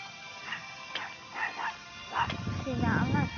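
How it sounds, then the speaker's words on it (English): A small chihuahua yips and barks in short, high bursts, spaced at first and then coming faster, close by and fairly quiet, with whimpery notes mixed in. "you guys look like a little chihuahua right there barking at me"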